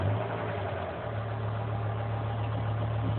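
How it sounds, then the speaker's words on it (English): A BMW M5 E60 V10 idles at tick-over with a steady, slightly rough low drone and even rumble, close and continuous without any revving. "actually on tick-over, it can sound a bit rough."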